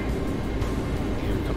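Boeing 737 MAX takeoff roll in a flight simulator game, light aircraft: a steady, loud broadband engine roar with low rumble fills the whole stretch, with speech present around it.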